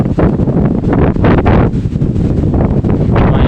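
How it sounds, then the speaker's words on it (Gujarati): Strong gusty wind outdoors on a rainy, cloudy day buffets the microphone in loud, uneven rumbling surges, with no voice heard. "પવનનો અવાજ સાંભળો તમે"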